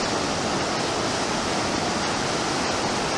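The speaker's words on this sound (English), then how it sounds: "And there's some big waves out there." Big ocean waves breaking far offshore produce a steady, broad wash of surf noise, constant and fairly loud throughout with no voices.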